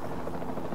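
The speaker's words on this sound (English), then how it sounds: "the sensible thing is to take a Capture Team helicopter." Capture Team helicopter in the dinosaur park video game Jurassic World Evolution 2, a steady low rotor drone with a faint buzzing edge, continuous and moderately loud throughout the short moment.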